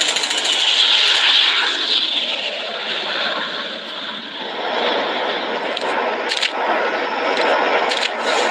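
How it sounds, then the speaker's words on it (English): An airplane arrives with a loud, steady broadband roar that dips slightly midway and swells again, with a few sharp scraping accents near the end. "The plane with infected arrived"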